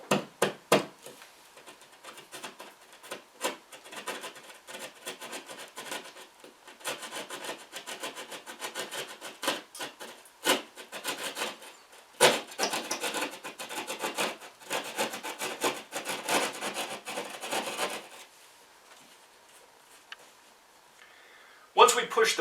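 Drywall being punched and cut for a low-voltage mounting bracket opening, giving irregular scraping, rasping strokes and sharp knocks, close and fairly loud, with pauses between bursts and no talking.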